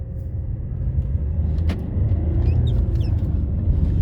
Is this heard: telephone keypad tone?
no